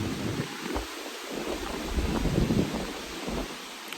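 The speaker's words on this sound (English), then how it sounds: "I didn't wait for a day where the wind was going to be this dramatic" Strong, dramatic wind gusts buffet the microphone outdoors in a steady, loud low roar that swells and eases, with no voices.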